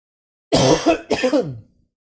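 Two harsh, throaty coughs close to the mic, one right after the other, with silence before and after.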